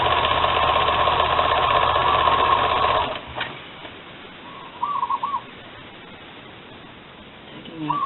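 A sewing machine runs steadily for about three seconds while stitching a tote lining, then stops, leaving quiet room tone and a few soft handling sounds.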